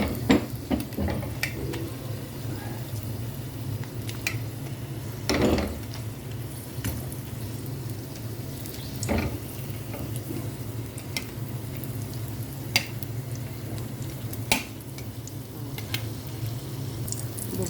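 Dried fish frying in a pan, a steady soft sizzle with scattered pops and crackles throughout, close up and with no talking over it.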